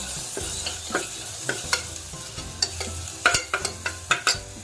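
Ginger garlic paste frying in a pan for a Madurai-style goat intestine curry, with close spatula scrapes and taps striking at an uneven rhythm over a low, constant sizzle.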